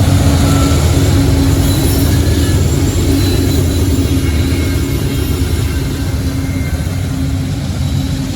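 A giant coal train with a DPU locomotive rolls past close by, loud continuous rumble and clatter of wheels on rails with faint squeals, steady throughout with no voices.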